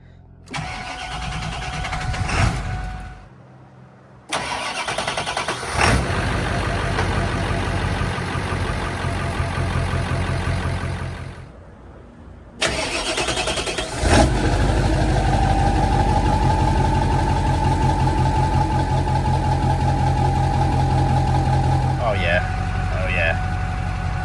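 Hydra-tuned 7.3 Powerstroke diesel in a six-speed manual F-250 cranks and fires, settling into a loud, deep, rough running rumble heard from close by, with brief gaps where the engine cuts out before restarting.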